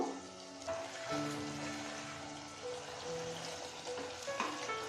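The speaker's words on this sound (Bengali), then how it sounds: "এবার আমরা ঢাকনা সরিয়ে এটাকে কিছুক্ষণ নাড়াচাড়া দিয়ে নেব" Spring onion stalks being stirred in an open pot after the lid comes off, cooking with amudi fish, giving a soft continuous sizzle with faint scraping and stirring close by.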